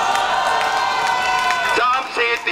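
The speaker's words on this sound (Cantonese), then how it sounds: "俾啲掌聲自己" Crowd at a large street rally cheering and applauding, a dense continuous roar with whoops rising over it, close and loud, with voices shouting throughout.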